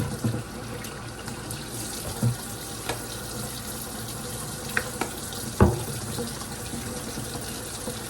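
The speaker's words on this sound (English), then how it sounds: "Matter of fact, what am I doing? Wash my hands." Water runs steadily from a kitchen tap into a sink while hands are washed, a close, continuous splashing flow with a few small knocks and clatters and no talking.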